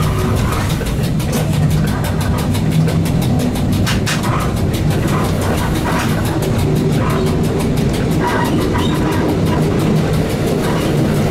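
An EN71 electric multiple unit rolls along the rails between Zakopane and Kraków Płaszów, heard from the cab as a continuous loud rumble with regular clickety-clack beats from the wheels over rail joints.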